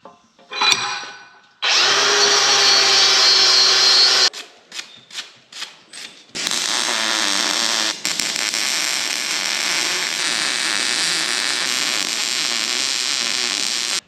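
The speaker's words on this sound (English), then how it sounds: "I'm gonna go ahead and hit this head gasket bolt with the wire wheel" A wire wheel on a power tool scrubs a head gasket bolt, a loud steady grinding whir with a few short bursts before one long sustained run, no talking.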